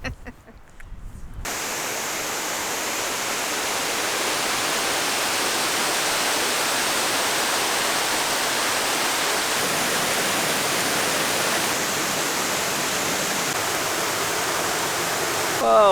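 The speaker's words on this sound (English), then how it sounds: "there's a river just behind it" A river flows just behind a campsite in Scotland, a steady, loud rushing of water that holds evenly for the whole stretch after a brief quieter moment at the start, with no voices over it.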